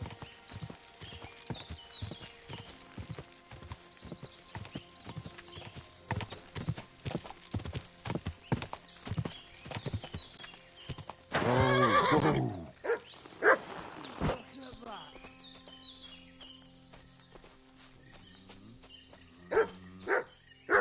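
Video game horse with clip-clopping hooves under a busy game soundscape, followed by a loud neigh burst near the middle and a few scattered whinnies and thuds afterward.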